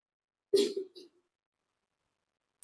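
A single short cough breaks the quiet during a Class 10 lesson, followed by a fainter second burst, then silence with a brief click at the end.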